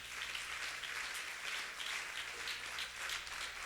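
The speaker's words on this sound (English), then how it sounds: "Clap your hand for your understanding." Steady, diffuse clapping from a church congregation during a sermon, a continuous broadband patter lasting throughout at moderate, fairly even loudness with no voices over it.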